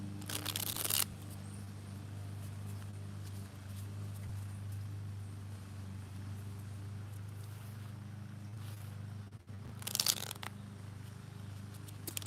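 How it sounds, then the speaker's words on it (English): Tarot card decks are shuffled in two brief, crisp bursts of riffling, one at the start and one near the end, over a quiet indoor hum. "I'm just shuffling on my decks really quick."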